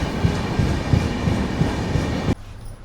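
The Tirumala Express 18522 runs out of Gooty Junction, a steady rumbling roll with rhythmic wheel clatter heard up close, which drops suddenly to a quieter hum near the end.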